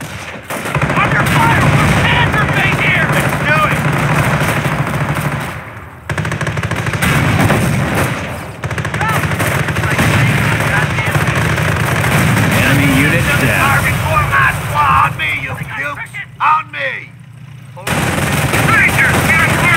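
Continuous battlefield gunfire from Company of Heroes in the St. Lô mission, with rifles and machine guns rattling densely and loudly for nearly the whole stretch, a brief dropout partway, and voices calling out amid the shooting.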